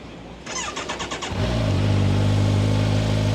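A 2025 Kawasaki Ninja 1100SX starts up: a few quick cranking pulses of the starter, then the four-cylinder engine catches and settles into a steady, deep, loud idle burble, close by.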